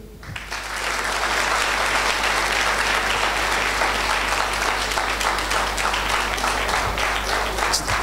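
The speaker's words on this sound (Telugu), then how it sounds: "మరి క్లాప్స్ అవి." An audience breaks into loud, sustained applause at a talk, a dense wash of clapping that swells within the first half second and holds steady for the full length, with no voices above it.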